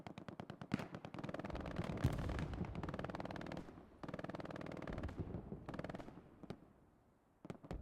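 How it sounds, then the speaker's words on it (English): Machine gun fire in a large online military shooter match, heard as long sustained bursts of rapid rattling shots with heavy booms and distant gunfire underneath, pausing briefly before more firing. "We still have Marcus in the north covering with the MG"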